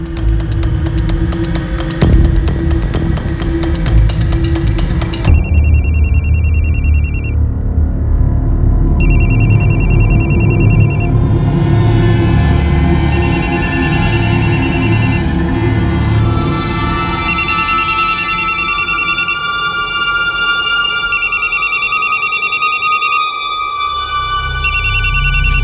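Telephone ringing late at night in a quiet home, with repeated bell-like tones in regular bursts over a steady low hum, continuing loudly for the length of the clip.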